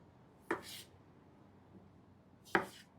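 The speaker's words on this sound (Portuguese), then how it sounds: "nós vamos cortar a batata de cima para baixo em 2" A knife slicing potatoes in half on a cutting board in a home kitchen, two sharp separate chops about two seconds apart with quiet room tone between them.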